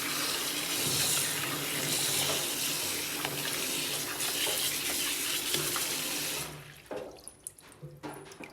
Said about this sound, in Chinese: 摘好之后，给它放在清水中，我们用清水给它清洗干净。